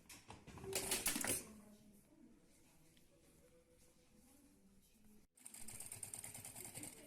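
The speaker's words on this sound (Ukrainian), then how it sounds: "Пришиваємо стійку до нижнього коміра шириною шва 10 мм." A sewing machine stitches a stand onto the lower fur collar in a quick burst near the start, then goes quiet before another run of rapid, faint mechanical whirring at the end.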